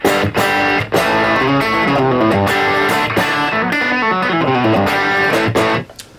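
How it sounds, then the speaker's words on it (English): An electric guitar plays rock arpeggios direct through a Fractal Audio Axe-Fx II amp modeler, giving a loud, distorted, sustained tone with flowing note patterns and no talking. "I'm going direct in with my Fractal Audio Axivex 2. And that handles all of my guitar tones, amp tones."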